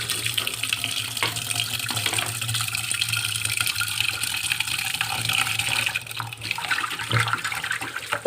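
Kitchen tap water running steadily into a sink while fish is washed, a continuous close hiss and splash with a slight change near the end.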